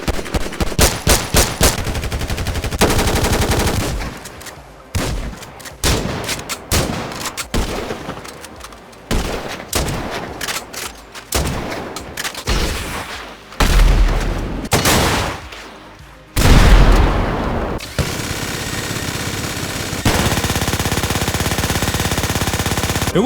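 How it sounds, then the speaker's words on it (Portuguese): Modded weapon gunfire in GTA V: loud close bursts of automatic fire and single heavy shots, broken by short pauses, with sustained rattling volleys toward the end. "E é claro que não podia faltar nesse mod o som das armas."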